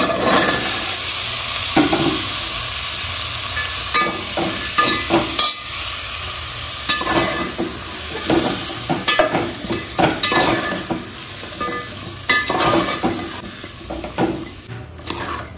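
Vegetables sizzle and fry in a pan over a low gas flame while being stirred for khichdi, with a steady close hiss and irregular scraping and clinking strokes running throughout, no talking.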